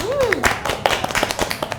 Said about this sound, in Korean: 우리 성훈 사원 박수 한번 주세요